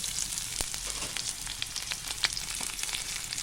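Onion with ginger-garlic paste sizzles and fries in a pan, a steady crackling hiss with scattered sharp pops and a few stirring scrapes, heard close up and alone.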